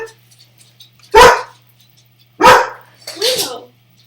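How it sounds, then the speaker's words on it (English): A dog barks three times in the background, short sharp barks spaced about a second apart, fairly loud against a quiet room with a low steady hum. "If you hear a dog barking, that would be Willow in the background."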